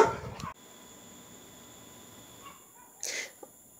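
Dogs bark outdoors in two short bursts, one at the start and another near the end, with quiet background between.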